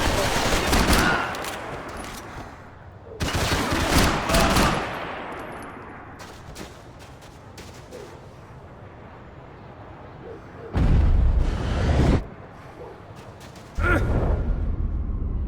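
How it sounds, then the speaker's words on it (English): Bursts of rapid gunfire and heavy blasts from the video game Max Payne 3 come in several loud volleys, separated by quieter stretches of rumble and scattered smaller shots. "Gunfire over Hoboken."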